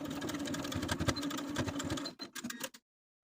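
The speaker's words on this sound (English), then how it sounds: "I'm going to take it to my sewing machine and sew down the line, back stitching at both ends" Sewing machine stitching down a T-shirt neckband, running steadily with a dense, rapid mechanical hum, then stopping and restarting in short bursts before falling silent.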